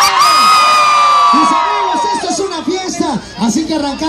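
A party crowd shouts and cheers, a long rising whoop followed by repeated bursts of excited yelling and whistles, loud and close, with voices mixed throughout.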